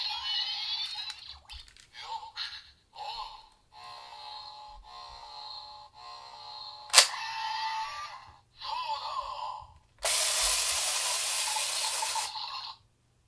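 A Kamen Rider Gaim Genesis Driver toy with an energy Lockseed plays electronic sound effects: bursts of synthesized voice and tones, clicks, a sharp snap and a loud buzzing fanfare, each short and separated by pauses.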